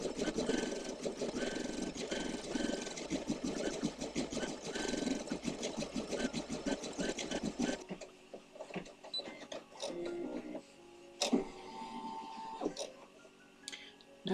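An embroidery machine runs a satin stitch around a rabbit design for an Easter piece, its dense rapid needle chatter loud and steady for about eight seconds, then stopping and leaving quieter clicks and small mechanical sounds.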